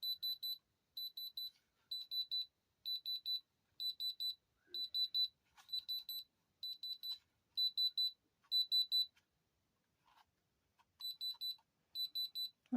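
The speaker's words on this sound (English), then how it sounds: "I wonder why it's still beeping." A small electronic gadget, used while sorting through a jar of jewelry, beeps in steady bursts of rapid high-pitched chirps, pausing briefly between groups and carrying on for several seconds, clear and close with no talking.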